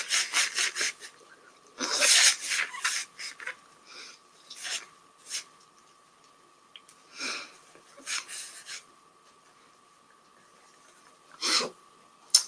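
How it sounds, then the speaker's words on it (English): Several loud, breathy nose-blowing bursts, close up, come at irregular intervals with quiet pauses between them. "after I blow my nose"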